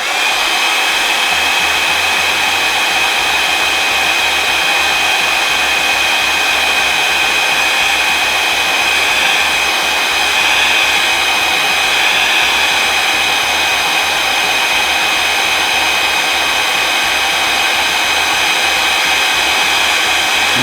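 A heat gun blows steadily over embossing powder, a loud, unbroken airy roar with a motor whine that holds at an even level throughout, no voices.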